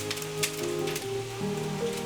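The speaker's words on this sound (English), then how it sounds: "It's really starting to rain." Rain mixed with hail falls outside on a porch, a steady close patter with scattered sharper hits, layered over sustained background music tones.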